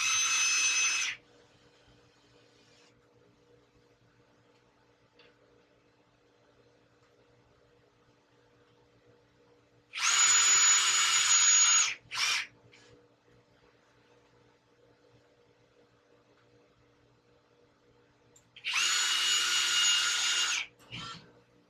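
A power drill drives screws into a stone crab trap in three separate bursts of high whirring, each lasting a second or two, with near silence in between.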